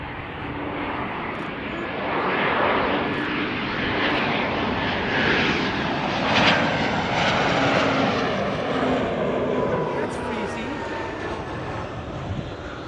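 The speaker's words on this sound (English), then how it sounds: "Nice A340-600, the Dows." An Airbus A340-600 four-engine jet at Amsterdam Schiphol Airport gives off a steady, broad engine roar at moderate distance, with a faint whine riding over it, while a voice talks in the background.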